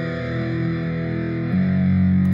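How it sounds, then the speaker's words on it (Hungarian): Slightly distorted music played through a homemade transistor amplifier, a steady buzzy tone with sustained harmonic notes that shifts to a louder, lower note partway through. "Ugye ez most egy kicsit torzított zene."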